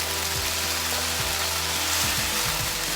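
Spiced chicken sizzles steadily in a wok with garam masala, while a spoon scrapes and stirs in short low knocks. The frying hiss runs loud and continuous throughout.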